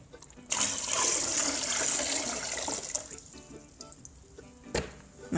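Water pours and splashes steadily into a container while a pet's water bowl is being changed, a loud continuous flowing rush that tapers off toward the end, with a brief bump near the close.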